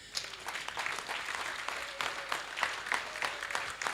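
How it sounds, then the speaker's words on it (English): A standing audience at an award presentation claps continuously, a dense, steady patter of many hands with a few sharper individual claps, moderately loud and without voices. "I think the standing can be accompanied by hand claps."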